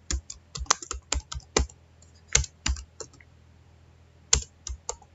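Typing on a computer keyboard, with irregular bursts of sharp key clicks and short pauses, close and clear over a low steady hum, no talking.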